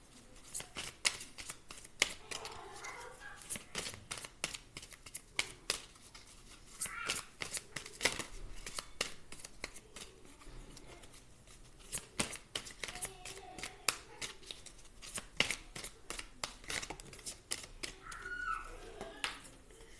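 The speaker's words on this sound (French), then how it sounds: "une dernière carte pour ce tirage général pour ce lundi 11 avril 2022" Tarot cards being shuffled by hand, a rapid irregular patter of soft riffling snaps and flicks, close and fairly quiet, with faint talk in the background at times.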